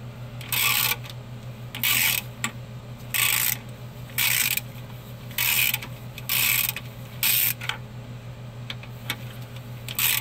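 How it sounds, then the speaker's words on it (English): Ratchet wrench working a 13 mm nut on the oil pan of a Dodge Ram, loud rapid clicking bursts repeating at steady intervals, each about half a second long, with a low steady hum beneath and no talk. "This is a 13 millimeter nut."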